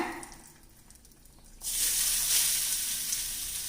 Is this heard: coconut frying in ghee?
yes